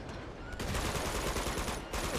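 Shotgun fire in Uncharted 2, dense loud blasts packed closely over about two seconds, with a brief drop partway through.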